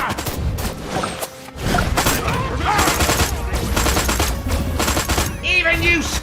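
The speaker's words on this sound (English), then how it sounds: "Get out the big gun!" A big gun firing in the video game Destroy All Humans!: a near-continuous barrage of loud, dense blasts and rattling fire with crashes, close and heavy, with a brief gap early on and game effects around it.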